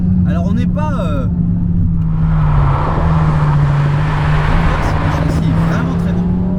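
Alpine A110 Légende GT engine pulling hard under acceleration, a steady loud drone with a rising low tone that holds throughout, heard from inside the car with someone talking over the start.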